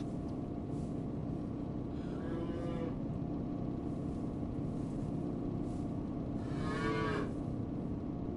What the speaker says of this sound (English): Cows are still mooing behind us, so they're travelling okay.